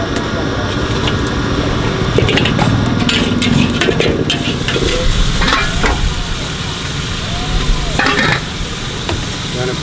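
Mee goreng fried noodles cooking at a busy Penang street stall, a steady loud sizzle under repeated metal scraping and clanking from the wok, with traffic noise in the background and people talking nearby.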